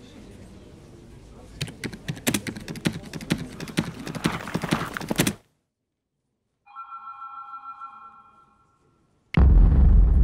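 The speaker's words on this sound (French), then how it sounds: "Vous voyez le cheval?" Horse hooves clip-clopping loudly and rapidly for several seconds, then a sudden cut to silence, a sustained tonal hum, and another abrupt loud burst at the end.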